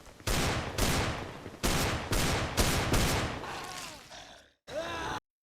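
A burst of video game gunfire: repeated loud shots crack out in close succession, then fade, and after a brief silence one final short burst follows.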